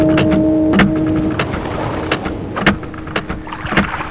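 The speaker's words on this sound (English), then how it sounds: "What you hear are actually bubbles in a toilet." Bubbles gurgling and popping through toilet water in irregular bursts, with small sharp blips over a murky, rumbling background.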